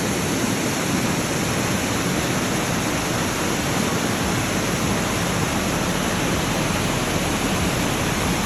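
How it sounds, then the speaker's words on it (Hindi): Steady, loud rush of a waterfall in an isolated spot on the Kheerganga trek from Kalga near Kasol, a dense broadband roar that stays constant and close with no voices throughout. "इतना प्यारा वाटरफॉल और उसकी क्रॉसिंग अभी दिखाते हैं पास जाके"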